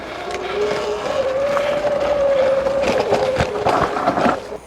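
A 12,000 watt E Ride Pro SS 2.0 electric bike rides off-road on a narrow, rough trail, its motor giving a steady rising whine close by, with scattered bumps and clatters from the terrain.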